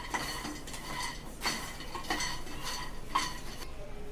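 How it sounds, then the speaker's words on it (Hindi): Makhana fox nuts frying in ghee over a low flame in a pan, a steady soft hiss broken by several scraping, rustling stirs at a slow, irregular pace, heard up close with no voices. "स्लो आंच पे घी में वो इसको फ्राई करते हैं। ये मखाने फ्राई हो रहा है।"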